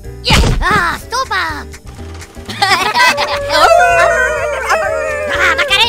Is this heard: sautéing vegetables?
no